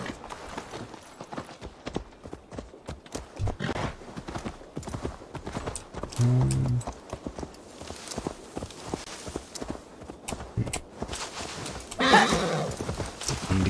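Horse in Assassin's Creed Valhalla clip-clopping along a road or path in England, a brisk run of hoofbeats that stays close, broken by a short whinny midway and a louder neigh near the end, with no talk.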